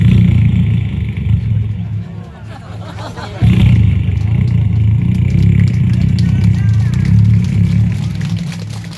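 A performer at an outdoor Korean pumba show imitates the engine of a big 750cc police motorcycle with his voice, a loud, low rumbling drone that breaks off briefly and then resumes, with crowd noise in the background.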